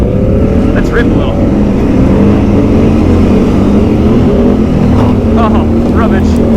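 Can-Am Outlander ATV engine revving hard on a trail ride, a steady loud drone with rising pitch sweeps throughout, close and continuous.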